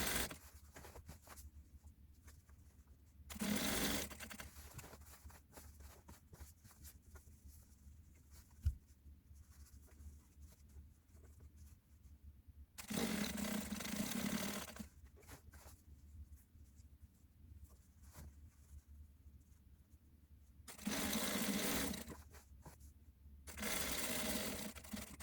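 A sewing machine stitches homemade cropped pants made from an existing pattern, running in four short whirring bursts with long, quiet gaps of fabric handling between them.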